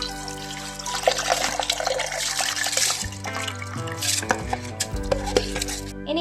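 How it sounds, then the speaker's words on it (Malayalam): Soaked rice with coconut water is poured into a blender jar, making a steady splashing, gurgling pour with a few light clinks against the jar; no one speaks. "അപ്പോൾ ഇത് നമുക്ക് ജാറിലേക്ക് ഒഴിക്കാം"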